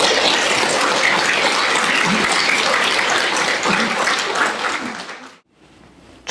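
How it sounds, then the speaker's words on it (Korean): An audience at a Won Buddhist sermon gathering claps steadily to welcome the minister. The dense, even applause continues for about five seconds, then cuts off abruptly into near silence. "선산 박중훈 교무님을 큰 박수로 모시겠습니다."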